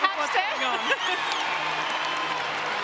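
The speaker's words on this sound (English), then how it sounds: "Listen to this crowd here at John Cain Arena." Crowd cheering and clapping inside John Cain Arena at a Melbourne Vixens versus Lightning Super Netball match, a loud sustained roar with whoops and a commentator talking over it.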